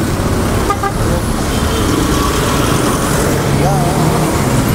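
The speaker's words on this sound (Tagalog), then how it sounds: "Ang dami sasakyan." Dense road traffic at the Monumento Circle roundabout fills the air with a continuous engine roar and rumble, a few horn toots and passing vehicles heard up close, while a rider talks over it.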